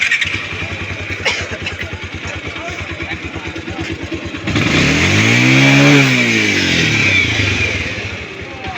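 A second-hand motorcycle for sale in Joypurhat idles with a steady rapid thump, then revs up loudly for several seconds and settles back down, close to the microphone.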